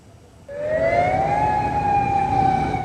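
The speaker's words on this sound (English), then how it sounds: "Mandatory evacuation sirens go off in Reddington Shores as Hurricane Milton barrels towards the US state of Florida." Mandatory evacuation sirens sound in Redington Shores, Florida, ahead of Hurricane Milton. A loud wailing tone starts abruptly and holds high and steady over a low rumble of traffic.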